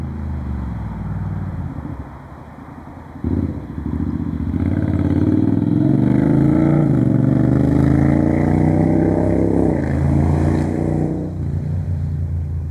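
A motorcycle engine grows louder beside a river, revs up in rising pitch as it passes close by, then eases off, with a steady high whine underneath.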